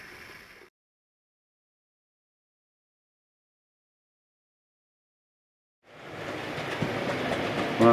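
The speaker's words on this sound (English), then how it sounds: "It's Mark Hemel Down Model Railways loft, and let's go and have a run session" Model railway train running on track in a loft layout: a brief rumble at the start, a long silence, then a close rolling clatter of wheels on rails building and continuing to the end.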